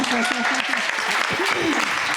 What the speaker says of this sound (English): Can we hear an applause yay? for Helena.